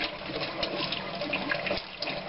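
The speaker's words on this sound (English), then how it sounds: "I turn some cool water on, and I stir them to help the pulp, what's left of the pulp, go through the strainer." Cool tap water runs steadily from a faucet over fruit pulp in a strainer, a continuous close rushing splash with faint stirring movement beneath, and no one speaking.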